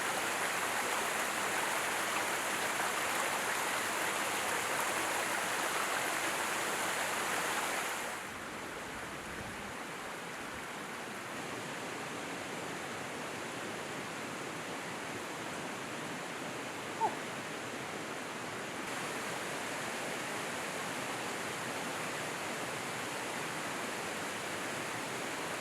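The River Goyt runs through oak and birch woodland, a continuous broad rushing of water heard from nearby that drops a little in level partway through, with one brief click and no speech.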